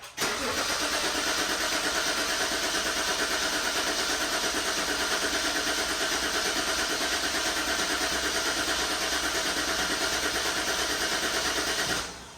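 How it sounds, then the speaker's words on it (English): A BMW N55 engine cranks over continuously on the starter to prime oil after a rod bearing replacement, without firing; a steady, loud, even whirring drone runs for about twelve seconds, then cuts off. "we're gonna make sure we turn it over multiple times, make sure the system is completely lubed before we actually start the car"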